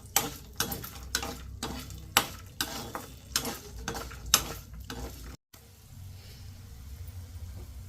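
Cumin, urad dal, chana dal and coriander seeds frying in oil, a run of sharp clanks and scrapes from stirring over a low sizzle, then a quieter steady hiss after a brief gap.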